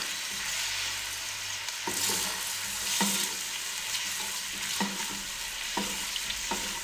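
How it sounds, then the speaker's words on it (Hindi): Onions fry in hot cooking oil with a constant crackling sizzle, while a spoon scrapes and knocks against the pan at intervals, close and without voices. "कुकिंग ऑयल हमारा गर्म हो गया है। अब इसमें हम प्याज डाल देंगे।"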